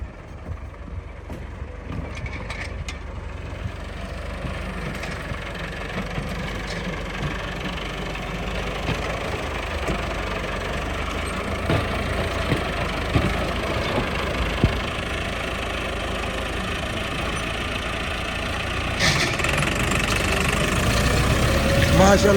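A tractor working a potato field runs steadily throughout with a continuous low engine drone and some mechanical clatter, with someone talking over it.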